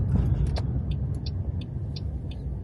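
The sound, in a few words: car engine running while warming up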